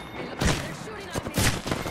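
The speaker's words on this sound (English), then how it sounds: "They're shooting at me." Enemies in the Apex Legends shooter fire a rapid series of gunshots, close and punchy, in two clustered bursts with brief gaps between them.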